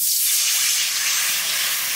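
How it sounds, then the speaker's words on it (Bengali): Water hits a hot kadai on the stove and hisses loudly in a steady, bright, spraying rush that holds for the whole moment with no talking. "আমি কড়াইতে এবার জল দিয়ে দিচ্ছি।"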